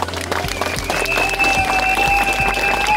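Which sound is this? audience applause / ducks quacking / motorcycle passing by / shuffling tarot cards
audience applause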